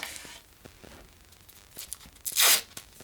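Cheap adhesive tape being pulled from the roll and torn while laying wood: a few faint scratchy pulls, then one loud, sharp rip close to the microphone near the end.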